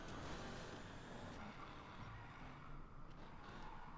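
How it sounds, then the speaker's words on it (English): A drag car in Need for Speed Payback produces a continuous broadband engine and road roar, steady and fairly loud with little variation, heard alone without talk. "Need for Speed kicks ass with their vehicle sound effects."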